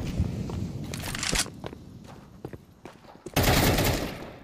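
AK rifle shots from the video game Counter-Strike 2 crack in sharp bursts, with several quick reports early on and then a loud, dense volley near the end, scattered with footsteps and clatter.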